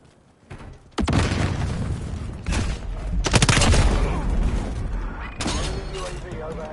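Call of Duty Modern Warfare 4 beta match with a grenade blast and bursts of gunfire, a loud boom and rattling shots layered over continuous battle noise, with a voice talking over it.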